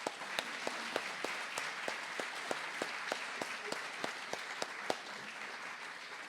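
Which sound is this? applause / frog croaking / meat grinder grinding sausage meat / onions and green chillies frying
applause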